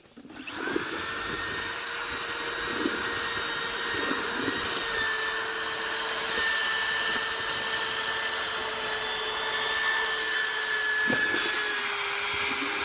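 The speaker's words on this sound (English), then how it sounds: "this is a paddle mixer. It's a 1200 RPM drill." A corded 1200 RPM drill with a paddle attachment whirs at a steady high pitch, churning a thick polymer concrete mix continuously with faint scraping knocks.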